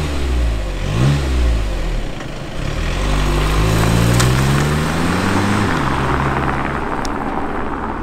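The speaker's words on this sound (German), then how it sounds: "ist halt ein 4-Zylinder Diesel, 2-Liter Motor und dementsprechend kommt da halt nicht sehr viel aus dem Auspuff raus" A 2-litre four-cylinder diesel in a Skoda Octavia RS revs with its sound generator switched off, the engine note climbing and falling through several steady, fairly loud sweeps with no talking.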